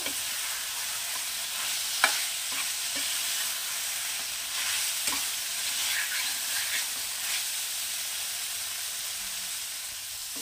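Chicken sizzling as it is stir-fried in a pan, a constant hissing fry broken by a few sharp utensil knocks, close and without talk.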